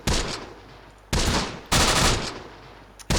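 Squad gunfire in Close Combat: The Bloody First. Four loud, close bursts of rapid firing, each starting sharply and tailing off, arrive about a second apart with no talking.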